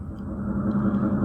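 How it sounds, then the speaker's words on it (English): Traffic sound mode on a LectroFan sound machine plays a steady low rumble of passing cars, continuous and even, with no voices. "more like traffic sound."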